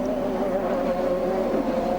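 Champ Car race cars on the Houston Grand Prix circuit idling along in a line behind a safety car, a steady, moderately loud engine drone with no break.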